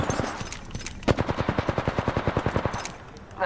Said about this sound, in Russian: Они стреляют. Да еще и в меня.